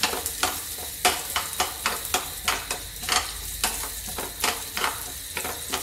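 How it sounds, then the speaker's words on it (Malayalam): Chopped coconut sizzles in ghee in a small pan, a steady close frying hiss punctuated by regular scraping stirs about twice a second. "എന്നിട്ട് ആദ്യം നമ്മുടെ തേങ്ങ ഞുറുക്കിയത് അതിലേക്കിട്ട് ഒന്ന് ഫ്രൈ"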